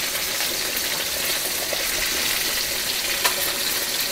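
Food sears in a hot frying pan, pieces turned to brown every edge, giving a steady, close, even sizzle with a small crackle near the end and no voices.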